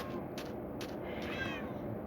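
Several pet cats in the video game Minecraft meow in a few short, clear calls over a steady low game background, with no talking.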